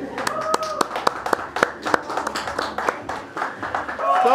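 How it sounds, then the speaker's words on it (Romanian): A crowd at a kebab-eating contest breaks into applause, sharp claps rising over lively chatter and voices, continuing for several seconds. "Idolul meu, aplauze."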